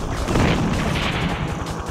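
Dense, continuous blasts and crashing booms from the helicopter action game Heli Heroes, rolling together with no gaps and no talk.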